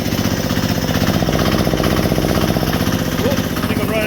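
Onan generator set engine running with no load, a loud, steady, close chugging drone that holds constant throughout with a dense rapid pulsing and no break.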